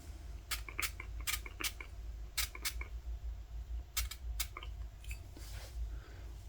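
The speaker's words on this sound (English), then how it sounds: "So I'm just spraying all this down." Short sharp spray bursts of cleaner hiss onto a SilencerCo Sparrow suppressor one after another in an irregular rhythm, close up, over a low background hum.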